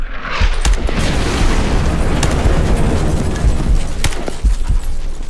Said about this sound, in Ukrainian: снаряд, наприклад, який впав за декілька метрів від мене, він не так гучно вибухнув